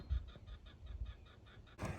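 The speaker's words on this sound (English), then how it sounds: "there's a bird down there somewhere" A bird calls outdoors in a steady run of short, repeated chirping notes, fairly faint and at a distance, with a brief burst of louder noise at the end.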